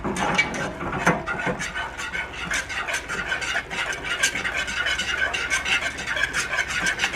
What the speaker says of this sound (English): I'm going to whisk it up, and it's going to thicken up.